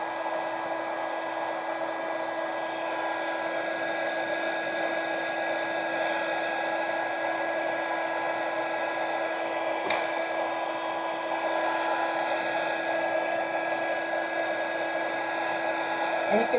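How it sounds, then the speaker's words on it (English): An embossing heat gun blows continuously while drying paint on a card, giving a steady, close whirring hum with a faint high whine that holds level throughout. "I'm going to take my embossing gun and we're going to dry it"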